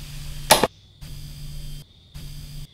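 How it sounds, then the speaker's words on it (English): Short bursts of electronic tapping, like Morse code, in the horror game Midnight Scenes: one sharp crackling hit, then steady pulsing tones that switch on and off in rhythm over a low hum. "It seems like it might be Morse code."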